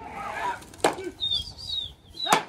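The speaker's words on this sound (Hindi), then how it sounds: "ये भाई दोबारा उड़ा दिया गया कबूतर" A trained pigeon is released from a rooftop near water tanks and takes off with sharp bursts of wing flapping, two distinct flurries, alongside high chirping bird calls and someone talking nearby.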